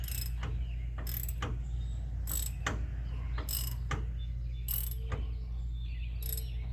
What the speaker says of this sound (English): come in here and tighten the lower bolt